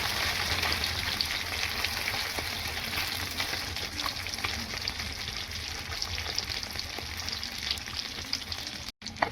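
Fish frying gently in a pan, a steady close sizzle with crackling spatter running throughout, cut by a short pause near the end.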